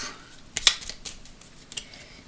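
A tarot card deck is cut by hand, producing a short run of crisp papery snaps and flicks, close and fairly clear, with one sharper slap partway through.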